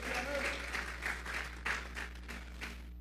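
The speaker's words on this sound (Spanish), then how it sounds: "Y vamos a regalarle ofrenda de palmas al Dios de la gloria." A church congregation claps together as an offering of praise, rhythmic bursts of applause repeating steadily at moderate volume over a low hum, with a voice faintly present beneath.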